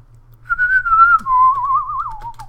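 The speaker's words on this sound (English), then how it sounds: "Probably shouldn't whistle into my mic." A person whistles a single sustained, wavering tone close to a microphone, gliding slightly downward with a quick vibrato near the end, loud and alone.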